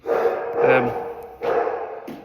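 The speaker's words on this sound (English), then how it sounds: "There's a dog in the kennels, likes barking as well." A dog in kennels barks twice in quick succession, loud and close, with a short pause between the yelps.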